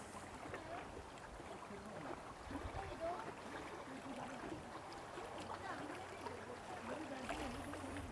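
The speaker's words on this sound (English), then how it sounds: "If you can hear the water, just immerse yourself in the sound of the water." Soft, steady flowing water murmurs continuously at low volume, an even wash of sound without distinct splashes.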